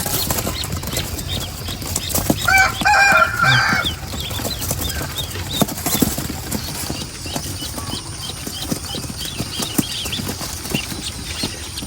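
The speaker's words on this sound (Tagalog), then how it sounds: "So ito yung mga babae ito, lahat to babaeng itik." Female ducks on a farm quack and flap in a brief noisy burst partway through. Steady footsteps, rustling and ambient farm noise surround it at a moderate distance.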